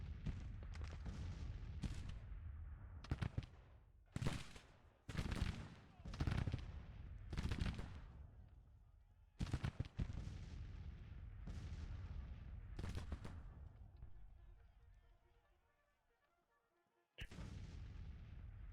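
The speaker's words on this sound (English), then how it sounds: "Firing, firing, firing. Everyone should be firing." Civil War battle in Grand Tactician: The Civil War, with loud bursts of artillery booms and rattling musket volleys in irregular clusters, a brief lull, then another blast.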